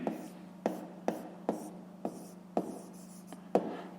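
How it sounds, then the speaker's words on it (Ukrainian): A pen writes on paper during a fifth-grade math exercise, making short scratchy strokes in an uneven rhythm. About seven distinct taps and strokes come close and quiet, with a faint hum underneath. "Ставимо тут крапку і пишемо"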